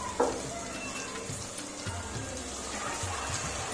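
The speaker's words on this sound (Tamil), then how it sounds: "அந்த தண்ணி நம்ம மட்டன் தண்ணி ஊற்றணும்." Mutton stock water is poured into mutton chukka cooking in a pan, giving a soft sizzle and bubbling, faint and steady, with a few light clinks.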